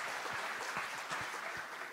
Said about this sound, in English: Let's have a round of applause for the poor kid